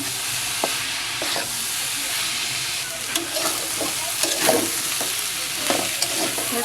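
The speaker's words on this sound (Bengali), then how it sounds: "কিছুক্ষণ পর পরে ঢাকনাটা খুলে নেড়ে চড়ে নেব" Cabbage and prawns sizzle steadily in a hot pan while a spatula stirs and scrapes through them, with irregular clacks and louder stirring bursts over a constant frying hiss. Nobody speaks.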